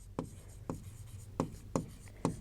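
Marker or chalk writing on a board during a chemistry lesson, five short scratchy strokes at an uneven pace, quiet and close, with no speech over them.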